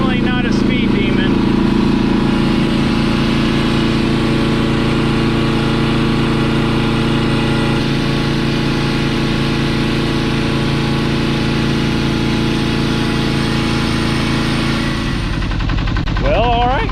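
Kubota T1600 diesel lawn tractor engine running steadily, a loud continuous rumbling drone that stays even throughout, with a person talking over it near the end.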